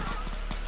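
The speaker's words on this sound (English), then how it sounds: "Speed 2 is no match for the horse." Horse hooves clip-clopping in a quick rhythm with a brief whinny in the Minecraft video game, steady and close under a constant background hum.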